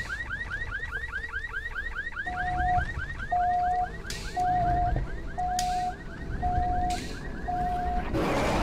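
A repeating electronic alarm blares in a Godzilla escape game, a rapid warbling wail overlaid with steady pulsing tones about once a second, loud and continuous with no voices.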